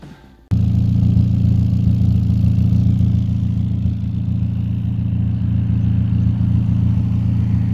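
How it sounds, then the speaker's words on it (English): Mazda MX-5 Miata NA fitted with a very loud Chinese JDM-style exhaust, starting up and settling into a deep, rumbling idle that stays close, loud and steady. "So let's listen to it."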